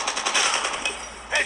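Rapid automatic gunfire from a Call of Duty Mobile match, a dense continuous burst of close, loud shots filling the whole moment with a slight swell near the end.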